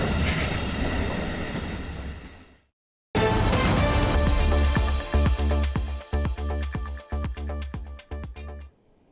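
A train passes through a station that once carried deportees from the Baltic states toward Siberia, loud and close, its rumble breaking off, then returning with rhythmic clickety-clack wheel impacts on rail joints.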